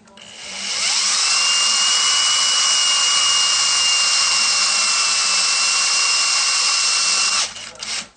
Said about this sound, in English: So I'm going to go ahead and drill all these